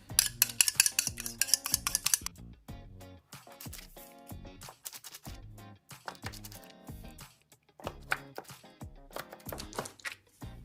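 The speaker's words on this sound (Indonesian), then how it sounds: "Potong sesuai selera aja ya ukurannya." Knife cutting through baked sausage bread rolls on a board, a rapid series of sharp clicking taps and scrapes at first, then irregular chops and knocks, close and fairly loud with no talking.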